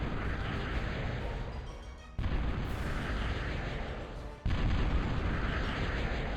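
Thud artillery units firing in the real-time strategy game Total Annihilation, a dense rumbling barrage of booming shots that rolls on without a break, swelling louder in two sudden steps.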